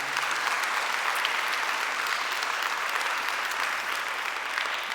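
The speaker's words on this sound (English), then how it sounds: "could we just say thank you through our applause to those that have shared their stories?" A church congregation applauds together, a dense, steady wash of clapping from many hands that stays loud and even throughout, with no voices standing out.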